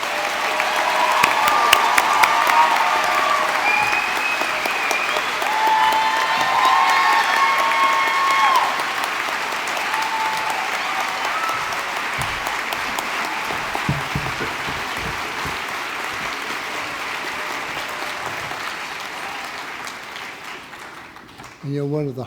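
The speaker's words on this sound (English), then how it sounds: "Let's have all the graduates stand again so we can give you all another round of applause." Sustained applause from a large graduation ceremony audience honoring standing graduates, with some cheering and whistles mixed in, continuing steadily for about twenty seconds before tapering off.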